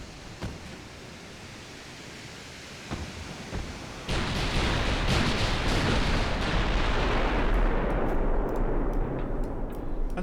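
Battleship secondary guns firing in the naval game Ultimate Admiral: Dreadnoughts: a few isolated booms, then a dense, sustained roar of rumbling gunfire that fills the rest, loud, with no voices.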